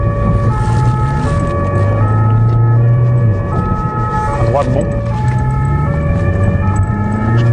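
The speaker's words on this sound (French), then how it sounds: "Je te coupe un bout la sirène." A loud wailing police car siren rises and falls steadily throughout, over a rumbling vehicle engine, with a brief spoken remark partway through.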